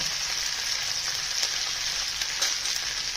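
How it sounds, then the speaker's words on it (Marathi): Mustard seeds and spices fry in hot oil, a dense continuous sizzle with faint crackling pops, close and steady throughout with no talking. "मोहरी फुलली की त्याच्यामध्ये थोडी कोथिंबीर टाकून घ्यायची, म्हणजे आपले मसाले जळणार नाही।"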